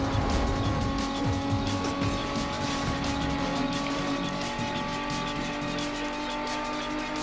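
A race car's engine roars and climbs in pitch as it accelerates through the gears in the racing game Need for Speed Most Wanted, loud and steady throughout, with faint tire squeal at times.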